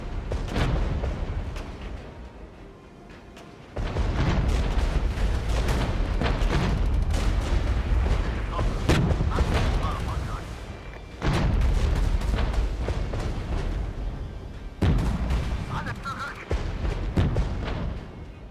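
Leopard tanks fire in the war strategy game Regiments, heavy booming cannon shots and explosions rolling out in repeated bursts over a dense battle din, with someone talking over the action.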